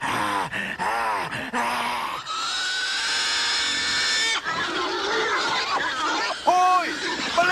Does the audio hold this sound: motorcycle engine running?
no